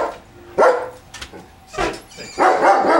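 A friendly dog barks at a potter's outdoor workspace, giving three loud, close barks spaced apart with quieter gaps between them.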